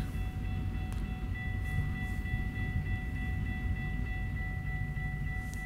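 A container train rolls past in American Truck Simulator, a steady, loud low rumble of heavy cars with faint high metallic whines running through it, continuous from start to finish with no voices.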